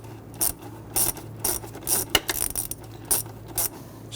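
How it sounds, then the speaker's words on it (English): A hand ratchet snugs down bolts on the fuel pressure regulator of a 2000-2006 Toyota Tundra 4.7L V8, giving repeated short bursts of crisp clicking, about eight quick strokes in an uneven rhythm, close and distinct. "Then we go ahead and run both of these bolts down and snug them down."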